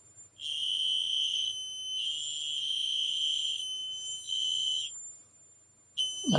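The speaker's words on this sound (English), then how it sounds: "That buzzer." A buzzer alarm sounds in long, shrill, steady tones broken by short gaps, loud and close in an otherwise quiet room.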